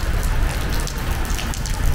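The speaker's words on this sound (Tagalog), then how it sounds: "Hindi mapakita ko sa inyo kasi ang lakas ng ulan." Heavy rain pours down in a loud, dense, unbroken roar of spattering water.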